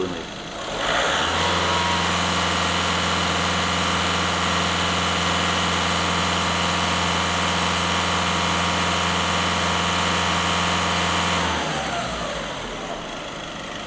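A VW Golf 1.6 TDI diesel engine is held at a steady high rev for about ten seconds, then drops back toward idle, loud and close throughout with a constant hum and no one speaking.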